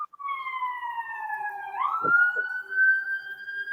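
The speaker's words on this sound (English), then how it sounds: "wait, you hear the ambulance?" A wailing ambulance siren sweeps past, its pitch sliding down then jumping up as the vehicle goes by, clear and fairly close.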